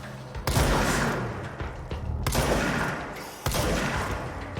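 Three heavy blasts from a revolver shotgun in the video game Control, each a sudden loud boom followed by a rumbling, smeared tail, spaced irregularly with no talk over them.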